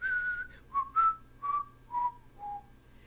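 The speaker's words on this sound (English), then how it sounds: "He began to whistle a bar of Lohengrin." A man whistles a short melodic phrase from Wagner's Lohengrin, six clear sustained notes in a falling line with brief gaps, close and alone.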